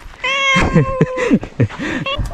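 A cat meows repeatedly, several close, clear cries in a row, with short breaks between them.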